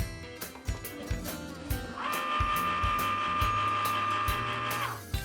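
Cricut Maker cutting machine cutting out a dollhouse piece: regular soft clicks and thumps of the moving carriage, joined midway by a steady high whine for a few seconds, fairly quiet and close.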